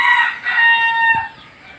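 A rooster crows once, clear and fairly close, its call rising and holding before trailing off, with no talking over it.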